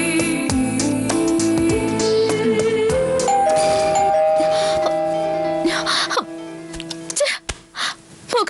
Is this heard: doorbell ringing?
yes